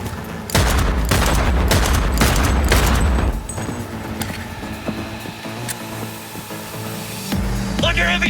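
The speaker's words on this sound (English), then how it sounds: "Under heavy fire!" Heavy gunfire in the video game Cyberpunk 2077, loud sustained bursts of rapid automatic shots close by, then scattered shots and impacts under a game soundtrack.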